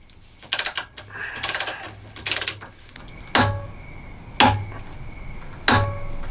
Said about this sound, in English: have my torque wrench set to 37 and crank it down and see if that feels right